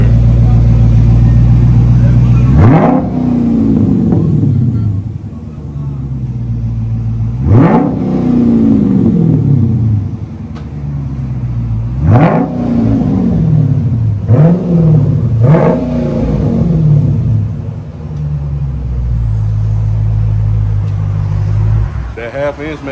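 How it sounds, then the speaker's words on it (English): A Dodge Charger 392 Scat Pack with a 3-inch MBRP exhaust starts and is revved several times, each deep, loud blip rising and falling over a steady rumbling idle, with people talking briefly between revs. "we're gonna get a start in a couple of revs"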